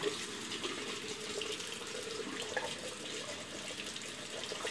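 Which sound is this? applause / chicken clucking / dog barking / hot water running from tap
hot water running from tap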